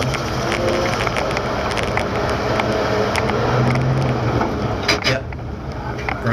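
A 70-year-old truck's engine runs loud and steady, with a harsh mechanical grind of clashing gears breaking through briefly near the end as a shift is missed at low RPM.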